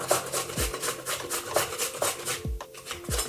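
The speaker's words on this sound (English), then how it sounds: "We're gonna peel the carrot and then we're gonna grate it." A carrot being grated for coleslaw, a run of dry rasping strokes in a steady rhythm, close and moderately loud with no talking.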